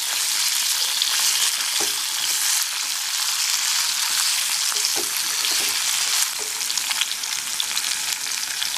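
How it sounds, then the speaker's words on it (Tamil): Drumsticks fry in hot oil in a pan for tiffin sambar, a loud, steady sizzle and crackle that holds the whole time with a few stirring clatters and no voices. "சூடாயிடுச்சு, முதல்ல முருங்கைக்காய் போட்டுக்கலாம்."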